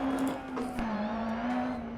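Ford Escort rally car in the racing game Dirt Rally, its engine holding a steady, fairly low-revving drone with slight pitch wavers, continuous and close for two seconds.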